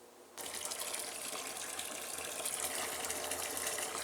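A plugged-in pump switches on abruptly and circulates liquid fertilizer water through a hose in a barrel, giving a steady, close rushing and gurgling flow that continues without pause.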